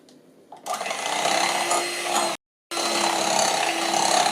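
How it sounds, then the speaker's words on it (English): An electric hand mixer beating churro dough gives a close, steady motor whir that kicks in after a quiet start, cuts out for a brief moment, then resumes just as loud. "So let me still use my mixer."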